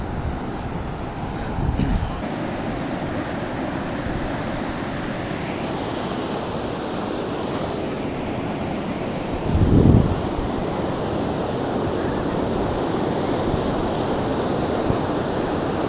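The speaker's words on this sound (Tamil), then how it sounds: "சூப்பராக இருக்குது பீச்சு." Ocean surf washes in continuously at Kovalam beach near Chennai, a broad roar with wind buffeting the microphone and a couple of louder gust bursts.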